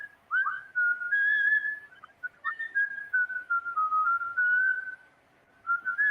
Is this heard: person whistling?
yes